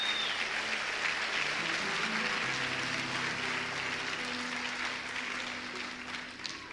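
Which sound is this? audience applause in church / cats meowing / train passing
audience applause in church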